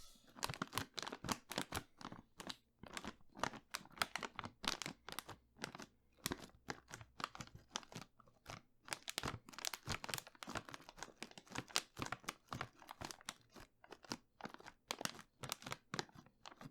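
A bag of crisps is handled and opened up close, giving bursts of sharp crinkling and crunching rustles that come and go irregularly, quiet overall with no talk.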